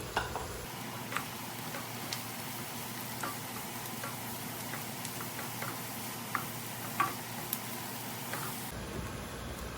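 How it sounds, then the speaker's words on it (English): Steady sizzling of onions frying in a pan, with occasional light clicks and taps of stirring over a constant hiss. "now we'll add the onion and we'll fry till it's nicely brown"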